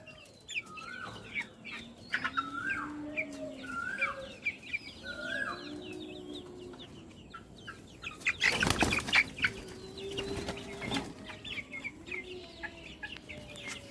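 Fayoumi and Sonali chickens on a poultry farm cluck and call repeatedly at close range, with rooster-like calls and a burst of wing flapping partway through, no talking.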